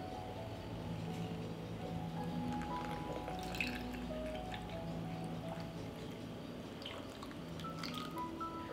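Monastery honey being poured into a glass jar at home, a quiet slow pour with soft sticky drips and small squishy sounds over faint background hum.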